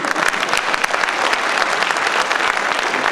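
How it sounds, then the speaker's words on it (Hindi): Audience at a Hindi kavi sammelan poetry recital clapping, a dense, steady burst of applause from a sizeable crowd, fairly close and sustained throughout. "ताली"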